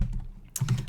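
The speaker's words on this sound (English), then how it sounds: "I don't know why I'm having such trouble typing today" Typing on a computer keyboard during a live coding session, with scattered soft key clicks followed by a denser, louder burst of rapid keystrokes close to the microphone.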